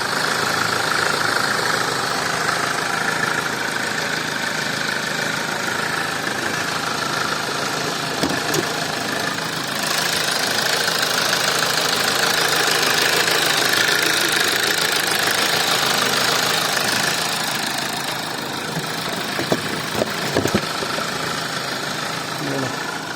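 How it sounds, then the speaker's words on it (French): Car engine idling under an open hood, a steady close mechanical drone with a faint knocking pulse, holding level for about twenty seconds with a few light clicks and handling noises. "je voulais quand même vous faire entendre le bruit du moteur au cas où vous serez intéressé"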